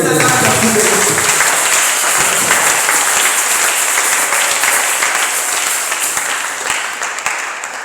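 A church congregation breaks into sustained applause, a dense wash of clapping that stays loud and steady throughout before tapering off slightly at the end, with no voices standing out.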